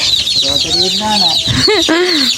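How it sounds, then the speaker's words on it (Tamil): A brood of chicks peeps loudly and close up, a rapid overlapping run of shrill rising and falling cheeps. "எல்லா குஞ்சும் கத்துது"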